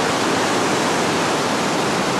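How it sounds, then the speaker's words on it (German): Water rushes inside a cave in New Zealand, a constant, loud, broadband roar with no breaks and no voices. "Oh, hier ist schon Wasser."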